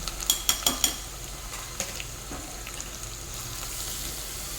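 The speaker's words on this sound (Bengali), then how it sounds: "এখন মুগের ডালটা আলুর সঙ্গে ভালোভাবে ভাজবো" Washed, drained mung dal tossed with potatoes frying in oil in a pan, a steady soft sizzle broken by a few clattering stirs of a spatula at the start.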